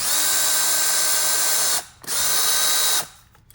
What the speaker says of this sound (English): Remove the bolt, and then this should just wiggle and lift right out.